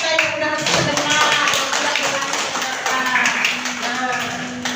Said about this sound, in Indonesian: Tepuk tangan dulu untuk teman kita yang udah sedekah.